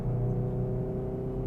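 A 2021 Hyundai i30N runs as a steady, close engine drone with a low, even rumble and a whirring tone, heard alone with no talk.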